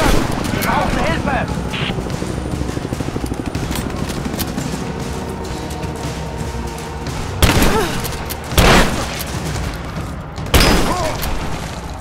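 Gunfire in Rise of the Tomb Raider: a steady loud fusillade of shots and booms, with several heavy blasts standing out near the end, close and continuous, while a voice talks over it.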